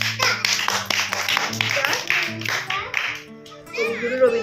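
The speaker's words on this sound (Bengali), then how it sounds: "হয়ে গেছে হাততালি দাও সবাই" Children and a small audience clap hands at a home Rabindra Jayanti gathering, a steady patter of close claps lasting several seconds, mixed with kids' chatter, then fading as a voice rises near the end.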